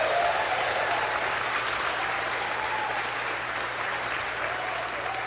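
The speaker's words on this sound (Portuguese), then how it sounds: "Pode aplaudir, pode aplaudir," A church congregation breaks into loud, sustained applause during a sermon, many hands clapping in a dense wash that fills the room with a faint low hum beneath it.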